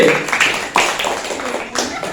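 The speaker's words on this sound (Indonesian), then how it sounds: "Tepuk tangan untuk Regu B" Classmates clapping for Team B after a group introduction at school, an uneven run of close hand claps with small surges, some voices mixed in.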